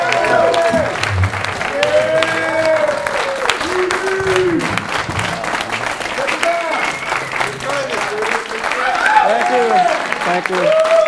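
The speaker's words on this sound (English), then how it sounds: "Just give them a round of applause." Audience applause at a stand-up comedy roast for a birthday, sustained clapping from a crowd throughout, with a host's voice and some cheering talk over it.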